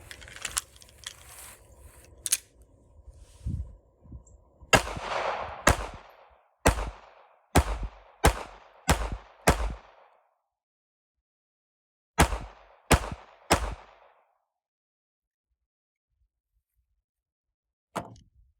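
A Ruger LCP Max .380 pocket pistol fires a magazine outdoors: about nine loud, sharp shots in a steady rhythm, a pause, then three more quick shots and one final shot, with some handling noise before.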